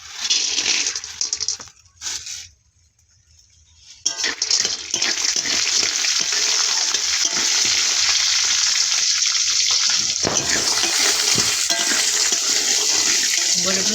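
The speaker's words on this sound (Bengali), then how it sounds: "বড়ি একটু লাল লাল করে ভাজবো।" Bori, lentil dumplings, frying in oil in a wok, a loud continuous sizzle that dips into near silence for about two seconds, then returns strong and steady for the rest.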